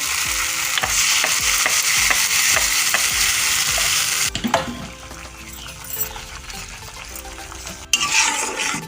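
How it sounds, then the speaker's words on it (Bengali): Spinach paste hits fried, cooked-down spices in a pan, a loud continuous sizzle broken by rhythmic spoon scrapes, then a sharp burst of hissing as the wet paste goes in. "ভালো করে মশলা আমার কষানো হয়ে গেছে এবার আমি পালঙ্গের পেস্টটা আমি দিয়ে দেবো"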